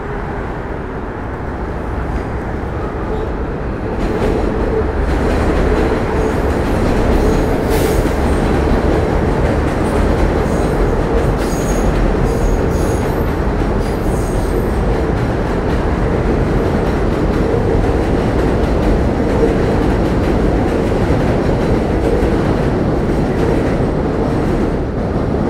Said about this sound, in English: I hear a number 7 train coming this way.